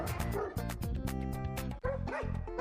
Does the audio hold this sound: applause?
no